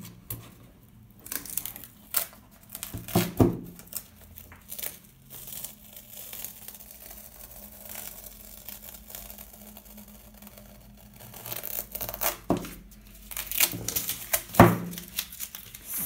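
Painter's tape crinkles and tears close up during an acrylic pour painting project, with scattered rustling, peeling and a few sharper ripping bursts spread across a quiet stretch.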